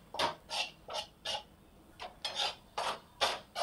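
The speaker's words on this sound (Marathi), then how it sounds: "आता याच्यामध्ये पण आपण याला छान खमंग भाजून घेऊ" Besan flour roasting with ghee in a kadhai, with a spatula scraping across the pan in eight regular rhythmic strokes, close and distinct, no talking.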